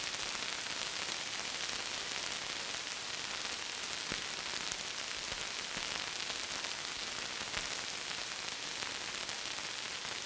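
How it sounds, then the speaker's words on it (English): Synthesized rain layer of dense, even hiss like steady rainfall on a surface, faint and unbroken, with a few scattered drip-like ticks and no voices. "Let's mix our bass rain sound back in to combine with the drips."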